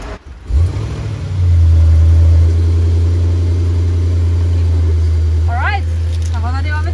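A white 2021 Mercedes-AMG GLE63s Coupé engine cranks and fires up into a loud, deep rev, then settles into a strong, steady burble close by. A person speaks briefly near the end.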